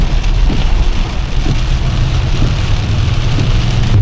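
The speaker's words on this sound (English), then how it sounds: "All you're going to hear is rain." Steady rain patters and hisses on surfaces throughout, a dense continuous wash with a low rumble underneath.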